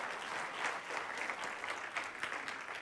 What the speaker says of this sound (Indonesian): tepuk tangan dulu untuk Tuhan